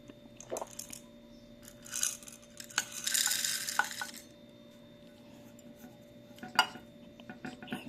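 Coffee is poured into a manual hand grinder for home brewing, giving scattered scrapes, rattles and a brief hissing pour of grounds and beans against metal, with quiet gaps between the sounds.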